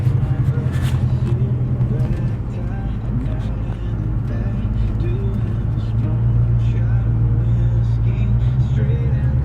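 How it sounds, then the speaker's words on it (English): 1974 Ford LTD towing a buggy on a trailer, a steady low engine and road rumble heard from inside the car, with someone talking over it throughout. "Headed back to East Texas with the buggy on the back of the trailer, dragging it with my 74 LTD."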